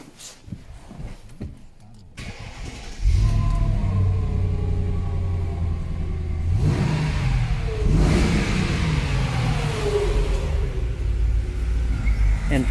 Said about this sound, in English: So let's get the engine started.